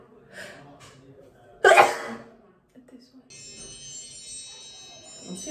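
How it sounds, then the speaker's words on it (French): A single sharp sneeze bursts out close and loud in the middle, preceded by soft movement sounds and followed by quiet rustling and a faint high tone. "Je vais éternuer."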